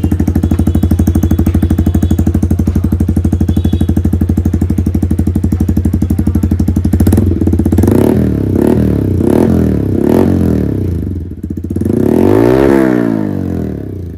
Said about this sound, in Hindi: SC का फुल एग्जॉस्ट सिस्टम लगा रखा है, इसका मैं आपको साउंड सुना देता हूँ।